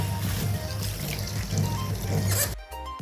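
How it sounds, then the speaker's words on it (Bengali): Water pours steadily into a bowl to soak fish, a continuous close splashing trickle that cuts off near the end. "এখন মাছটা আমি ভিজাই রাখি।"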